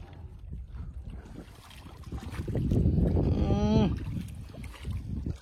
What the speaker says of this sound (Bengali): কাকা নৌকা চালাচ্ছে